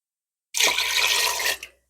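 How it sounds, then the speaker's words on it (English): Marinade poured into an Instant Pot over a pound of little smokies, a brief steady splashing pour lasting about a second that starts abruptly and tapers off with a final trickle. "then we're going to pour the marinade over"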